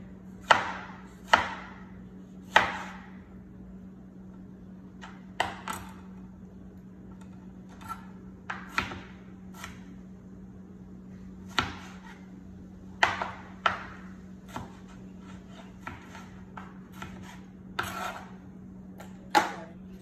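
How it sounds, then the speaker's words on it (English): A knife cuts through a tomato on a board, each slice a short, crisp tap. About a dozen of them land in an irregular rhythm over a steady low hum, with no talk. "Next thing we're gonna cut is a tomato."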